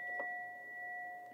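A small chime rings once, a clear sustained metallic tone with two steady pitches that hangs and slowly fades, soft and alone in a quiet room.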